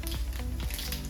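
Cumin seeds with mustard seeds crackling in hot oil in a pan for a Vidarbha-style breakfast dish, a steady close sizzle with rapid faint popping throughout.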